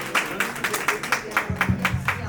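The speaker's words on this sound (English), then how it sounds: "Big round of applause, everyone." Scattered applause from a small crowd at an expo event in Washington, D.C., claps arriving in an uneven rhythm with a low murmur underneath.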